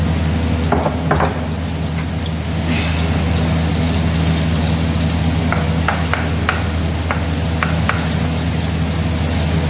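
Cooking oil sizzles steadily in a pan while chicken Arabian curry is prepared, a continuous close frying hiss with a few light clicks and stirring scrapes over a low hum.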